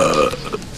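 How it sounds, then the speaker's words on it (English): A single loud, close belch, short and guttural, lasting under a second on its own. "Mustard belch."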